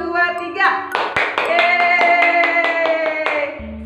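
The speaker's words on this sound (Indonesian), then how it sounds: "Oke, tepuk tangan dulu yuk buat dones yang paling kencang" Children at a Sunday school service clap their hands in a loud burst of sharp, overlapping claps that builds to a steady patter, with a music-like tone ringing underneath.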